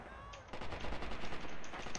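Rapid bursts of MP40 submachine gun fire in Red Orchestra 2, sharp repeated shots running almost continuously and loud in the foreground with battle noise around them.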